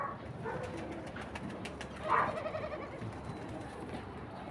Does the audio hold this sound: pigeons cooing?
yes